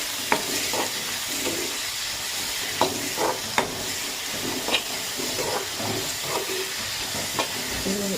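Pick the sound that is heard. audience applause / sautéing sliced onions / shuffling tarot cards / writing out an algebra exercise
sautéing sliced onions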